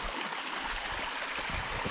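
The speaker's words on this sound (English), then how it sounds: "We're gonna see lots of running water today because it has been raining a lot recently" A stream swollen by recent heavy rain runs steadily with a dense, continuous rushing wash that stays even and fairly loud throughout, with no voices.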